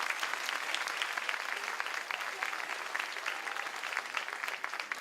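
Audience clapping at a 30th-anniversary celebration of a dance and fitness school, sustained dense applause from a crowd filling the room, steady and fairly loud without a break.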